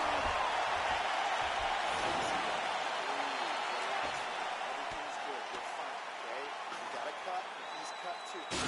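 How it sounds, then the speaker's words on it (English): Crowd applauding and cheering after a round of a fight in the video game UFC 4, a dense, steady roar of arena noise throughout, fairly loud and even. "So the crowd voicing its appreciation after that round."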